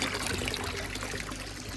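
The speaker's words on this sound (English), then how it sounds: "Water splashing back in, hitting the netting and freezing all over the netting." Garden pond water splashing and trickling back onto netting in winter, a close, steady continuous patter with no voices.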